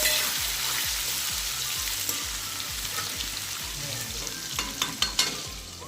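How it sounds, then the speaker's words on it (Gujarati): Potatoes and chillies crackling in hot oil, a bright sizzle over a rhythmic low thumping, ending with a few louder pops and clatters close by. "તો હવે આપણે તેલમાં એને કકડવા દઈશું। એ કકડે છે"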